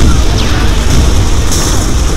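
A grenade goes off in the Halo Reach video game, a loud, booming blast with a rumbling, crashing tail that fills the whole short moment.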